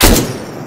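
A single loud, close gunshot is fired at a zombie in the Arma 3 game on the Livonia map, a sharp boom that decays quickly into a brief rumble.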